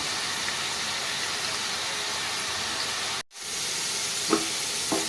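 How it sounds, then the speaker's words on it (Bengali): Drumstick flowers frying with green chillies in a pan, a steady close hiss of sizzling oil that cuts out briefly and resumes, with a couple of faint clinks and no talking. "আমি আজকে সজনে ফুলটা খালি কাঁচা লঙ্কা দিয়ে ভাজবো"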